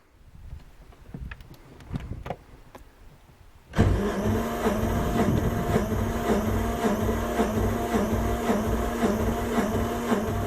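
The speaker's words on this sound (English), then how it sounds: "I'll start the fuel pump and crack open those bleeders" Electric fuel pump on a 1978 Yanmar YSB8 diesel in a long-flooded boat switches on abruptly after a few quiet clicks and knocks, then runs with a steady loud buzzing hum.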